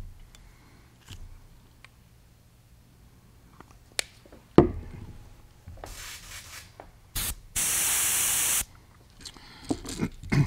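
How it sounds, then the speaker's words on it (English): An airbrush sprays transparent dark brown Createx paint in a few short hissing bursts and one longer steady spray, mixed with handling clicks and rubbing between bursts in a quiet room. "Now I want to add some transparent dark brown from Createx into the airbrush."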